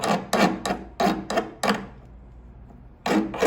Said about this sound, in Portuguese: começar aqui o trabalho de lima de lado, ó, acompanhando o desenho da parte de cima